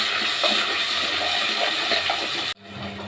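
Water runs in a kitchen during washing while an oily eggplant dish is cooked, making a steady, loud rushing stream that cuts off abruptly just before the end.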